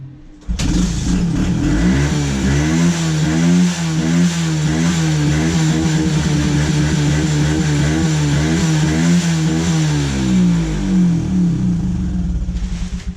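Dirt bike engine fitted with a plastic custom muffler runs loud and close for several seconds, holding a steady throbbing idle with wavering revs before cutting off near the end.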